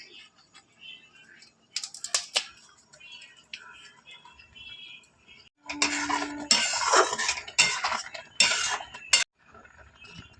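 Milk for a Bengali sweet being stirred in a pot with a spoon: sparse scrapes and metallic clinks, then a busier stretch of louder clattering strokes against the pot, close and intermittent with quiet gaps.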